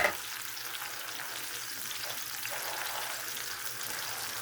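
Tomatoes and onions fry in a pan with a soft, steady sizzle and faint stirring movement, quiet and close, with no talking.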